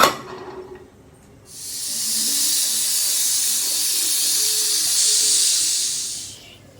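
A pressure cooker whistle blows in a home kitchen during cooking, a loud, steady steam hiss that starts abruptly after a quiet moment and holds for about five seconds before fading out, with no voices over it.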